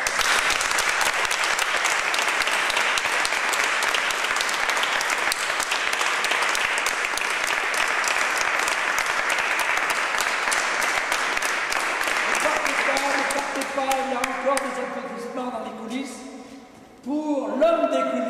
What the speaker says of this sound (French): Je vous demande des applaudissements à la hauteur de leur talent.